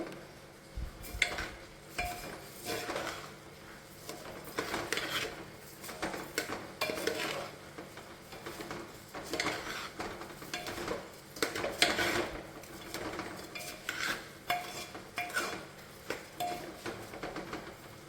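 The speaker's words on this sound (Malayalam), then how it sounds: "ഇനി നമുക്കിത് നന്നായിട്ട് ഇളക്കിയെടുക്കാം കേട്ടോ." Rice being stirred in a pot for vegetable biryani, soft repeated scraping and clinks of a utensil against the pot with a light sizzle underneath, fairly quiet and close with no talking.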